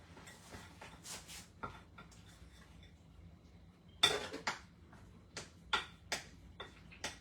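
A spoon stirring milk into a pot of creamed potatoes, heard as sparse, quiet metallic clinks and taps against the pot, with small clusters of knocks between near-silent gaps.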